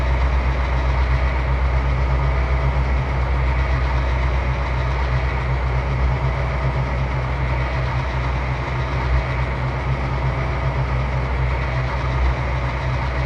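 Steady low diesel drone of a GP38-2 locomotive in Trainz 2022, a continuous rumbling hum with strong low tones held at an even level throughout, no voices.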